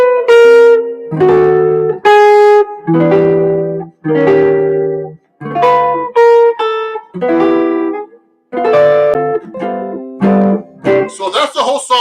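Guitar chords ring out one after another with melody notes on top, each strum decaying before the next in an unhurried, song-like chord-melody arrangement.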